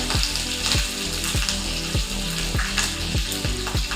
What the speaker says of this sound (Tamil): கருவேப்பிலை பொடியட்டும்